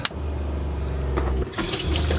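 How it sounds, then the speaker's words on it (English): An electric water pump in a tiny home runs with a steady low hum while water rushes and splashes through the plumbing, with a brief surge partway through and a brighter burst of flow near the end. "Hit the pump."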